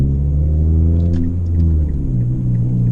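Manual transmission car engine running through the gears, a steady close low rumble with harmonic engine tones that drop in pitch as revs fall between shifts, with no talking.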